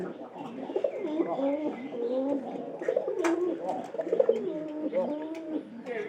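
Pigeons coo close by in a soft, continuous rolling murmur of overlapping calls, with no one talking.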